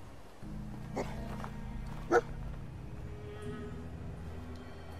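Dogmeat, the dog companion in the video game Fallout 4, gives a couple of short barks over a low droning game ambience, fairly faint and brief, with no talk.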